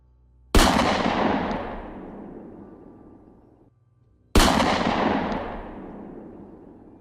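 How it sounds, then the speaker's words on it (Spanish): Two loud, sharp gunshots a few seconds apart, each followed by a long booming echo that slowly fades. "empezó a disparar"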